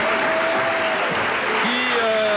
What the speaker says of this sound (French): Ces applaudissements s'adressent aux Lensois